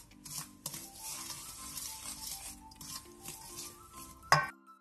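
Flour being stirred into eggless, butterless cookie dough in a bowl, soft scraping and patter at low level, ending with a brief clink of a utensil against the bowl; no one talks.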